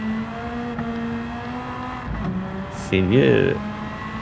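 Race car engine in Gran Turismo 7, a steady droning hum that rises into a quick revving climb near the end, with someone talking briefly over it.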